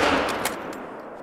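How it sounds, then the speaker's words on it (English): A hunting rifle in theHunter: Call of the Wild fires at a piebald axis deer, giving a single loud, close blast with a burst of noise that trails off into a short decaying echo. "And we shot a piebald in the heart."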